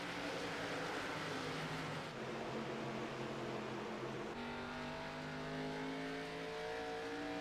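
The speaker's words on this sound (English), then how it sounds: "you hear these guys playing with the throttle" Race car engines in an oval racing video game at Lucas Oil Raceway, a steady loud engine drone with rising and falling revs as drivers play with the throttle, multiple cars layered together throughout.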